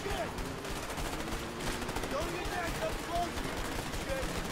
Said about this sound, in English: So the machine gun doesn't shoot both of us.